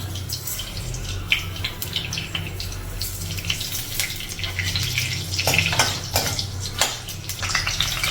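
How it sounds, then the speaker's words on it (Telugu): Mustard seeds spluttering and popping in hot oil in a pan while tempering for semiya pulihora, a steady sizzle with scattered sharp crackles growing busier toward the end. "ముందు ఆవాలు వేసుకుందాం, చిట్పట్లాగా రావాలి."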